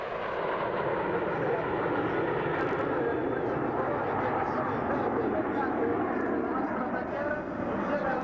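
A ten-jet aerobatic team flies in triangle formation at an air show, producing a continuous distant roar of jet engines that stays steady throughout, with a voice faintly audible underneath.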